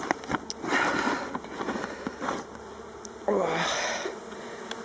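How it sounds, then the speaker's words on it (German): Honey bees buzz steadily over brood comb in a Warré hive being reworked, a close, continuous hum with brief clicks and handling noises. "Da gehen die Bienen einfach nicht weg."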